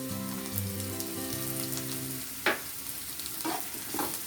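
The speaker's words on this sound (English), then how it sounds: "Stir it for some time on a medium flame." Mushrooms fry with sliced purple onion and chopped garlic in a pan on medium flame, with a continuous close sizzle. A tonal hum sounds early, then a few distinct scraping stirs follow, and no one speaks.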